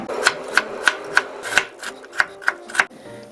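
Rhythmic knife chops through peeled ginger on a cutting board, about nine sharp evenly spaced cuts, close and crisp, with no voices.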